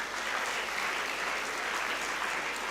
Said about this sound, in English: Please give you all a huge round of applause.